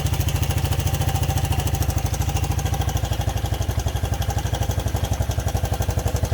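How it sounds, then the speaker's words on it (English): A Suzuki LT 160 ATV engine idles after carburetor tuning, a loud, close, steady rapid chugging pulse that runs without a break. "The idle's going to settle down here in a couple seconds."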